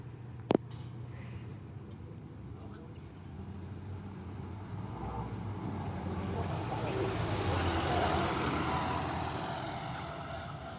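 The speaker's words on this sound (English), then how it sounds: "There goes that bus. All the way around." A bus drives past at the temporary bus interchange at Midland Station. A sharp click comes early, then a broad engine and road rumble swells to a peak near the end and eases slightly.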